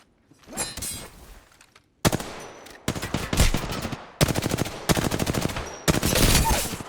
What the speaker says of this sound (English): I'm just going to shoot a quarter mag, quarter mag, quarter mag. Oh shit. I'm taking shots.